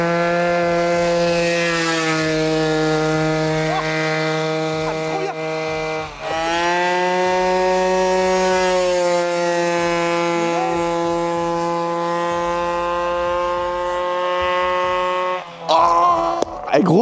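Peugeot 103 moped two-stroke engine held at high revs, a steady loud buzzing whine that dips briefly around the middle before climbing again and cutting off near the end with a clatter.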